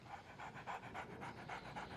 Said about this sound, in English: Cool dog.